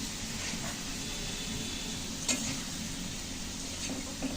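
Potatoes frying in hot oil with a little turmeric, a faint steady sizzle with occasional light clinks of a utensil against the pan; no talk.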